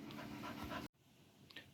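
A dog pants in quick, soft, rhythmic breaths close by, broken off abruptly midway, followed by faint low background sound.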